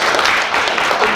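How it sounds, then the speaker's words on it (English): Crowd applause at an education innovation event, a dense, steady wash of clapping that fills the whole moment, loud and close, with faint voices mixed in. "Round of applause"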